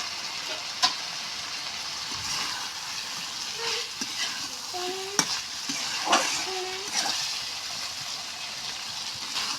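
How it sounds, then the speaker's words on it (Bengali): Fried bitter gourd and potato tipped back into a hot pan of spiced mixture, sizzling steadily up close, with scattered scraping and clattering of a spoon stirring the pan. "এখন আমি ভাজা রাখা করলা আলুটা দিয়ে দিলাম"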